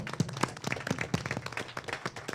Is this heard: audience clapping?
yes